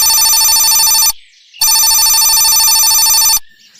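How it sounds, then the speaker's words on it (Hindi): A telephone rings loudly in two long electronic trills separated by a short pause, close and clear. "माँ के फोन आने पर रानी कौवी तो सब कुछ छोड़कर अपनी माँ से बातें करने लग जाती है।"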